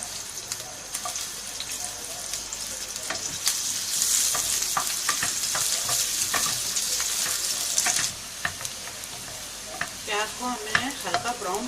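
Onions frying in about three tablespoons of ghee in a pan, a steady close sizzle with stirring scrapes and small pops throughout, briefly louder in the middle, no voices.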